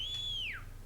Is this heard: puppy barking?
no